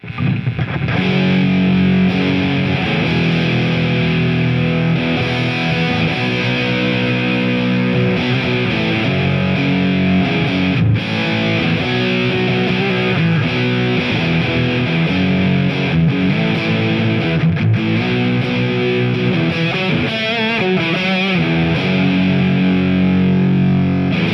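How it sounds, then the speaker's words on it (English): Heavily distorted electric guitar strumming sustained chords on the bridge pickup through a loud, cranked-up amp, dense and continuous with no talking. "Here's just a big chord. I'll play some chords so you can hear just the tone"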